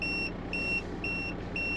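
A high electronic beep repeats steadily, four evenly spaced tones over a low background hum, with no talking.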